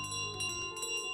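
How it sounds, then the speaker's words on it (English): A small bell in Untitled Goose Game rings in a few quick, bright, metallic strikes with lingering tones, heard quietly and alone. "Sounding the bell."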